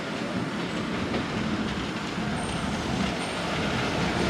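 Thal Express train at a railway station built in 1881, a steady dense rumble of railway carriages and machinery filling the whole stretch, loud and close with no distinct clacks.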